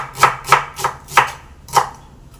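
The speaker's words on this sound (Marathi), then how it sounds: "हा अर्धा कांदा मी वाटण बनवण्यासाठी असा मोठा मोठा चिरून घेतलेला आहे" Half an onion is chopped into large pieces with a knife on a board, five crisp, close knocks in an uneven rhythm, with no one talking.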